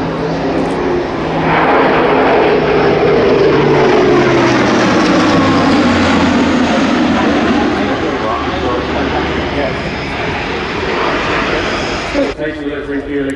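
Airbus A400M military transport aircraft of the Luftwaffe at the Royal International Air Tattoo air show, a loud, sustained propeller and engine roar passing close by, swelling and easing over several seconds.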